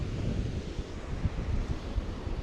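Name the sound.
strong wind on a beach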